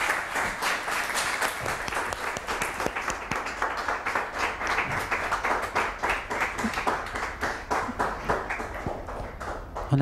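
Sustained audience applause on a French TV talk show, dense and steady clapping from a studio crowd for the full stretch with no voices standing out.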